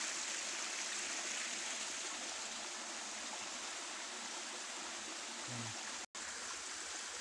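A stream flows in the wild with steady, broadband rushing water, continuous and fairly close, alone without voices, with one brief dropout near the end.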